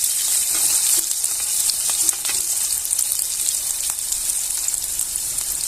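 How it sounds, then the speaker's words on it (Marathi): Onion frying in a pan with a teaspoon each of cumin and fennel seeds for jeera rice, a loud, continuous bright sizzle with occasional soft stirring scrapes, no talking. "कांदा चांगला असा लाल होईपर्यंत चांगला परतून घ्यायचा आहे"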